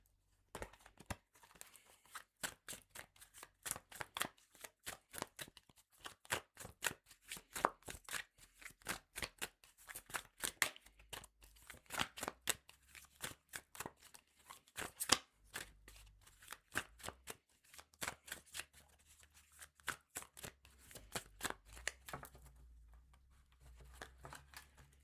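A Revelations Oracle card deck is shuffled over and over, a quiet, close run of rapid papery riffles and flicks lasting throughout, with no one speaking.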